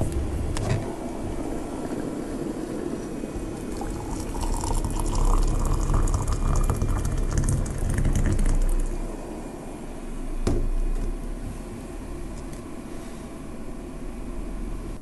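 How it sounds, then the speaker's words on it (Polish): Water heating to a boil in an electric kettle rated 1800 W, run from a FOSSiBOT F800 portable power station; a continuous bubbling, hissing roar that swells in the middle and eases off, with a sharp click near the end. "zagotowała się woda"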